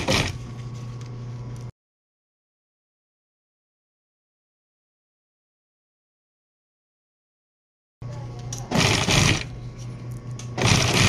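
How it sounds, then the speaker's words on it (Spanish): An electric sewing machine stitches piping onto a car seat, its motor humming and rattling in a steady run, then cutting out into total silence for several seconds before starting up again with uneven louder bursts. "Y así yo lo voy a coser todo"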